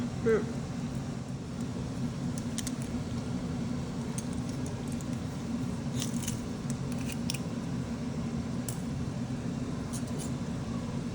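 Garlic being minced for garlic bread in a home kitchen, a few soft, quick cutting clicks over a steady low background hum.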